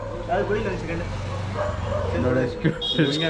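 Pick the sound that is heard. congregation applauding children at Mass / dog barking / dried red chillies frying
dog barking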